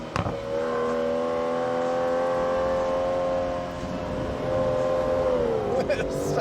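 Aston Martin DBS engine held at a steady, sustained rev with a rich harmonic drone, rising slightly toward the end, loud and close with no talking over it.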